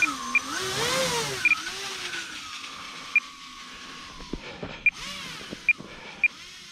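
The small electric motor of an E-Flite Twin Otter RC plane on snow floats whines and changes pitch as it taxis over snow, with rising and falling tones and a few sharp clicks scattered throughout.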